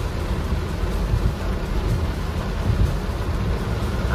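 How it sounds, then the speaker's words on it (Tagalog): Heavy rain falls during a trip, a dense, steady, fairly loud hiss with a low rumbling undertone that continues without a break, and no voices. "Grabe ang ulan guys, mga paps, grabe ang ulan mga paps"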